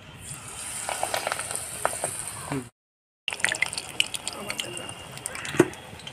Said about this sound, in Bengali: তেলটা গরম হয়ে গেছে, এবার পুঁই পাতার বড়া বানানোর জন্য দিয়ে দিচ্ছি বড়াটা।